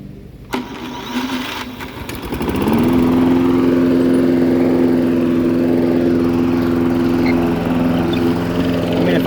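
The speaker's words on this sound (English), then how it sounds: "And this mower's turnkey Willie." A lawn mower engine with a turnkey start catches after a few seconds and then runs at a steady, loud drone close by, with no one talking over it.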